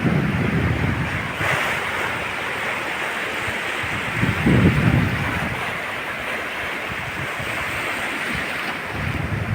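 Surf rolls in steadily on Kudle Beach at Gokarna, Karnataka, a continuous loud wash of waves with wind rumbling across the microphone and no clear break in the roar.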